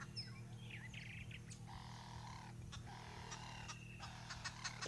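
Faint bursts of chattering, cackling green wood hoopoe calls rise and fall over a low engine hum, with scattered chirps, at sunrise in Sabi Sands, South Africa.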